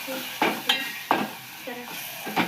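A spoon scrapes and knocks in a frying pan as fenugreek-leaf bhaji with gram flour is stirred, several sharp strokes over a soft sizzle.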